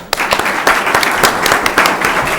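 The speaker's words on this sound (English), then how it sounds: "let's give them all a round of applause." Audience applause for candidates at a League of Women Voters candidates night, a dense burst of clapping from a room of people that holds steady for a couple of seconds, fairly loud and with no talking over it.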